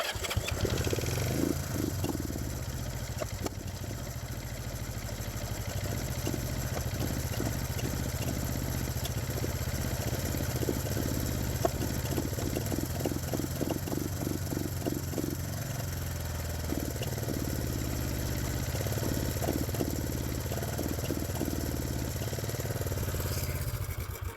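A small engine chugs and sputters at a low, steady rumble, running on throughout with irregular pulsing beats.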